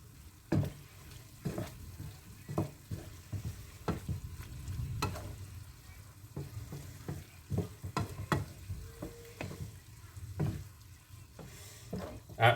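Stroganoff is stirred in a hot pan, with soft sizzling under repeated scrapes and knocks of a utensil against the pan, fairly quiet and irregular in rhythm.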